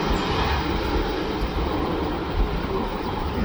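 Express train 171 roars steadily past on a double-track railway at Khlong Bang Tan, a loud, continuous rumble and rush of wheels close by, with no voices.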